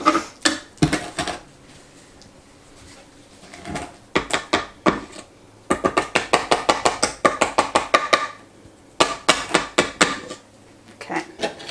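A utensil knocks and scrapes rapidly against a pan while lemon pound cake batter is worked out of it, producing loud bursts of quick rhythmic taps separated by short pauses.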